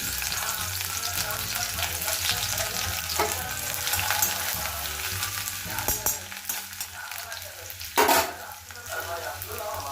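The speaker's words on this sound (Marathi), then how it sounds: "कढईमध्ये तेल घेतले, त्याच्यामध्ये अद्रक लसूण टाकून घेते." Ginger and garlic hit hot oil in a kadhai, giving a loud, continuous sizzle broken by spatula scrapes and stirring knocks, with a sharp flare of spitting near the end.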